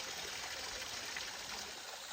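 Cold mountain spring water flows on the Tungnath trek in Uttarakhand while water is being filled, a soft continuous trickling rush, faint and steady for a couple of seconds.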